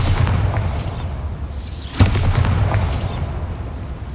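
Bombarda blasting spell in Hogwarts Legacy going off as a single deep boom near the middle, with rumbling game ambience and whooshing swells around it.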